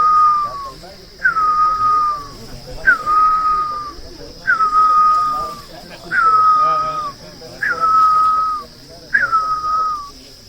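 A great barbet (Nyuli bird) call, apparently imitated by a person's whistle: seven loud, evenly spaced drooping notes, each a short rising onset sliding down into a held tone, repeated about every 1.3 seconds.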